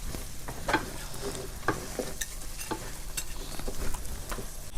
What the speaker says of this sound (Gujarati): હવે એને ઘડીક છે ને હલાવવાનું છે આપણે, એટલે બધું શેકાઈ જાય.